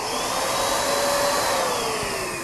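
A DTG pretreat sprayer being primed off to the side of a shirt runs with a steady, loud hiss and whine throughout, like a continuous motorized spray with a faint shifting tone.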